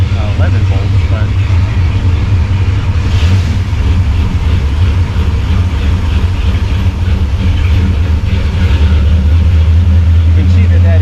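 A 454 big block boat engine runs at a steady, loud, close idle, a deep continuous hum with faint mechanical texture and a voice talking over it.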